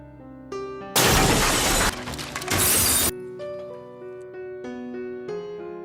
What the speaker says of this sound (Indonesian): Caroline terbangun karena mendengar suara barang pecah di lantai bawah.